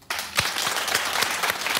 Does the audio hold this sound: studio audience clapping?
yes